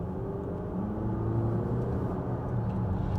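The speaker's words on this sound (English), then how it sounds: "Really does sound diesely, tractory, noisy." The mild hybrid diesel engine of a Volvo XC90 B5 accelerating, heard from inside as a steady, dense, low rumbling drone. It has a coarse, tractor-like clatter and stays even and continuous, with no voices.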